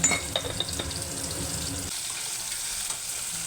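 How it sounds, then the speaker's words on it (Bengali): Potato sticks cut long frying in oil with salt and turmeric in a wok, a soft steady sizzle with a few stirring clinks early, then quieter frying alone. "আলুগুলো একটু নুন হলুদ দিয়ে ভালোভাবে ভেজে নেব"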